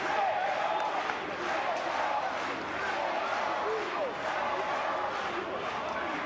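At a Benetton Treviso versus Ulster rugby match, the stadium crowd swells into a roar of cheering and shouts, filling the background while a commentator's voice speaks over it.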